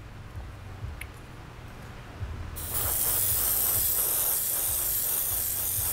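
An airbrush lays down a heavy wet coat of color shift paint, its steady broadband hiss starting abruptly partway through and continuing loud and unbroken after a quiet stretch of faint mechanical ticking.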